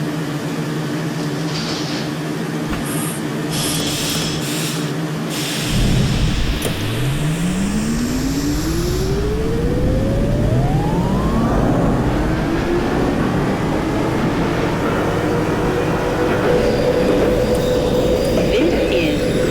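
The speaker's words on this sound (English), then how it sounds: "This is a Coney Island-bound Q Express train." A simulated New York subway Q Express train accelerates with a rising electric motor whine that climbs steadily in pitch over a loud continuous rumble of wheels and track. The sound stays close and sustained, with no talk.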